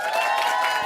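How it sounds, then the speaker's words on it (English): An audience at a Jamaica productivity forum breaks into applause, a short, steady wash of clapping and crowd noise at full level throughout. "If you want one more, give me a healthy round of applause"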